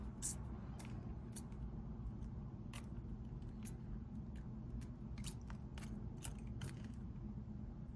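Small wire cutters snip excess wire during earring making, with several quick faint clicks spread over a steady low background hum.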